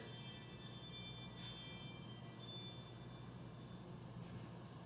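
A phone ringtone that mimics wind chimes rings out in a room, with scattered high chiming tones tinkling over a steady background hum.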